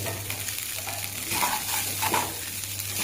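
Atukula upma, a flattened-rice dish, fries and is stirred in a pan with a continuous close sizzle. A few soft scraping strokes of a spoon sound through the middle, and no voice is heard.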